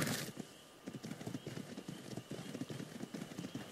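Horse hooves in the video game ARK clop in a quick steady rhythm, close and clear, after a short burst at the start.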